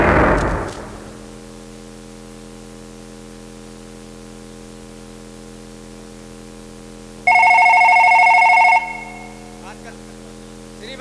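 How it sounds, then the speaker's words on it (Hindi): A telephone rings with one steady electronic trill lasting about a second and a half, loud and close, over a constant low hum and static. "तुम्हारा फोन आ रहा हुआ"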